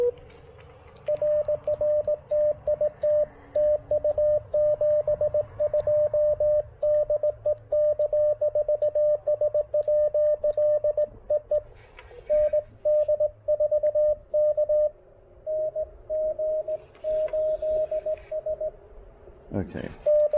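Morse code from a ham radio station during a POTA field activation, a steady stream of tone pulses tuned slightly off frequency over faint background hiss, with a brief burst of noise near the end.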